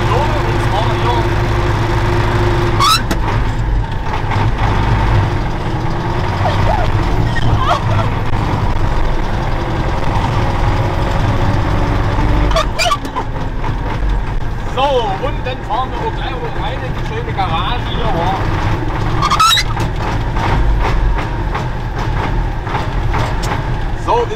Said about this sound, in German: das ist jetzt hier unser schöner Trecker